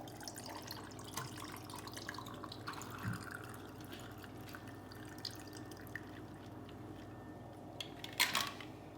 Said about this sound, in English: So I'm going to get this poured in here.